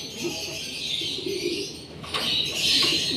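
A racing pigeon arrives at the loft during a two-lap derby, with brief bursts of flapping wings and soft cooing, close by, over a breathy outdoor background.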